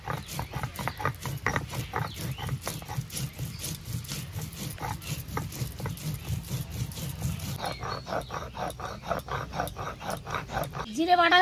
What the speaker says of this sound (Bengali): এখন জিরেটা বেটে নেব।